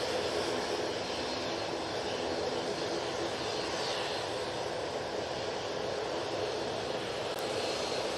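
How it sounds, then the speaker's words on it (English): Jet2 jet engines roar steadily at Manchester Airport, a loud, continuous broadband rumble close by with no speech over it. "Jet 2's making an awful racket in front of me."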